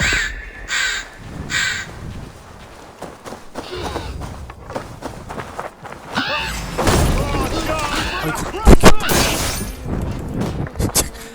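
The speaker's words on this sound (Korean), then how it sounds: "주로 요새는 까마귀를 써요" A crow caws repeatedly in Assassin's Creed Valhalla, its harsh calls rising loud over game ambience and scattered clatter, with a player talking underneath.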